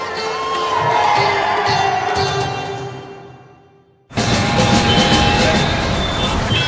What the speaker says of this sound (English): it was a huge surprise to be met by crowds of people outside my hotel